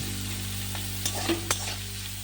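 Chopped onion, ginger and other vegetables fry in mustard oil for a kundru (ivy gourd) dish, giving a steady sizzle broken by two or three quick spatula scrapes, close and without speech.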